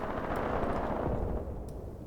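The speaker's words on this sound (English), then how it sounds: "These are just 5cm mortars" Gunfire and 5cm mortar fire during forest fighting at a bridgehead in Graviteam Tactics: a dense rumbling barrage of rapid shots and thuds, loud and continuous, easing slightly toward the end.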